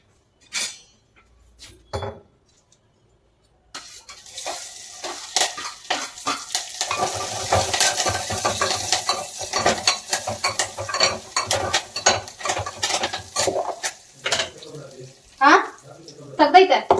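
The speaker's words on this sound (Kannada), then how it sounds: "ಸ್ವಲ್ಪ ಸಾಸಿವೆ, ಒಗ್ಗರಣೆಗೆ ಸ್ವಲ್ಪ ಬೆಳ್ಳುಳ್ಳಿ, ಕರಿಬೇವು ಮತ್ತು ಒಣಮೆಣಸಿನ್ಕಾಯಿ ಮತ್ತು ಸ್ವಲ್ಪ ಉಪ್ಪು" Mustard seeds, garlic, curry leaves and dry chillies crackle and sizzle in hot oil for tempering, with pan and utensil clatter and stirring, while someone talks over the cooking.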